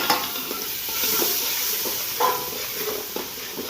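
Ground tomato masala sizzles as it hits hot oil already tempered with chillies, cumin, curry leaves and asafoetida, a loud continuous frying hiss with intermittent spoon stirs and scrapes against a large pot for toor dal.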